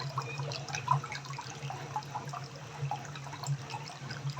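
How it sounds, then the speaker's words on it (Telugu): Water drains out of a washing machine tub during tub cleaning, a steady close trickling rush over a low constant hum with faint splashes, and no voices. "మనకు వాటర్ ఇక్కడ వచ్చేస్తుంది చూడండి."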